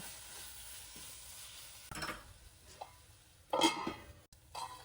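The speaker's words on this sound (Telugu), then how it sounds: "ఇప్పుడు దీన్ని కూడా కొద్దిసేపు కలిపేసేసి ఫ్రై చేసేసుకుందాం." Chili powder and coriander powder fry and get stirred in a pan for a cashew tomato curry, giving a faint steady sizzle with a few scraping stirs and clinks of the spoon against the pan.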